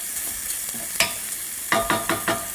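Bacon cooking in a pot for corn chowder, giving a soft steady sizzle with a few sharp stirring scrapes, a cluster of four quick scrapes near the end, close and moderately loud with no talk.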